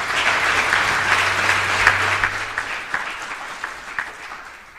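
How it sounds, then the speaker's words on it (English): A crowd applauds at a South African–Tanzanian business forum, sustained dense clapping that holds steady and then slowly thins toward the end, heard alone without talk. "Let us as South Africans give them a good round of applause."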